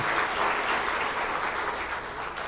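Sustained applause from a lecture audience, dense steady clapping at close range that fills the whole stretch without pause.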